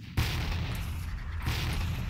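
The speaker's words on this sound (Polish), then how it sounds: "Mutne strzały" Muffled gunfire in the shooter game Tactical Ops, two dull, low thumps about a second apart, distant and soft under a steady background hum.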